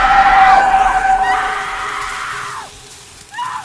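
Woman screaming in the Silent Hill movie, a loud sustained shriek that fades out, followed by a short rising cry near the end.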